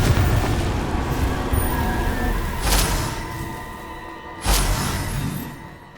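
Two booming blasts from the Confringo explosion spell in Hogwarts Legacy burst out a couple of seconds apart over a dense, continuous game backdrop of rumble and effects.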